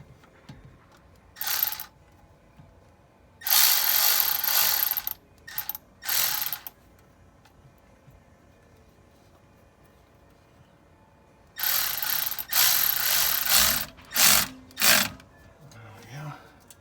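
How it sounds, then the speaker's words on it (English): A ratchet tightens a hose clamp on an intercooler pipe of a 1988-89 supercharged Toyota MR2, with several close bursts of rapid clicking separated by quiet pauses, the last ones short and choppy. "and that is to tighten this clamp"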